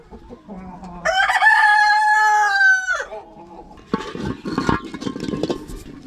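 A rooster crows loudly nearby, followed by a burst of busy clucking and squawking from chickens, including a hen sitting to lay eggs.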